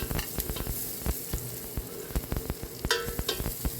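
Chopped garlic sautéing in hot oil in a pan, a close, continuous sizzle broken by sharp crackles and pops, with a louder burst of spattering near the end.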